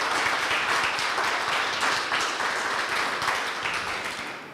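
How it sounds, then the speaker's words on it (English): Forum audience applauding the panelists, a dense, even wash of clapping from many hands that holds steady and then gradually tapers off, with no voices over it. "Another round of applause for panelists."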